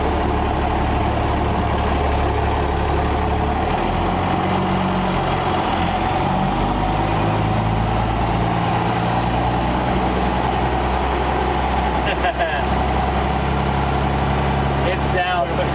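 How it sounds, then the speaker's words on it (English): A Cummins diesel swapped into a 1965 Ford F-600 truck, fitted with tall semi-style exhaust stacks, rumbles steadily at idle with a deep, loud low-end drone throughout; voices talk over it. "it sounds like a big rig now"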